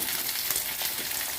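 Diced potatoes and papaya sizzle in mustard oil in a wok, a dense continuous hiss with faint crackles, close and steady throughout, with no voices.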